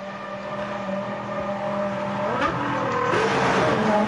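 Formula 1 race car engines from 2005 whine steadily nearby at the Australian Grand Prix, the pitch shifting as cars pass, with a rising roar toward the end.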